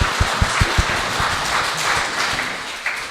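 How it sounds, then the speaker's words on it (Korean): Audience applause fills a marriage-mentoring lecture hall, a steady wash of many hands with a few sharp, loud claps standing out at the start, holding for about three seconds before thinning slightly. "다시 한번 감사의 박수를"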